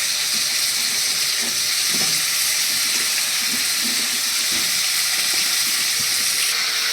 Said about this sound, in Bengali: এবার আমি এর মধ্যে পেঁপেটা আর গাজরটা দিয়ে দিচ্ছি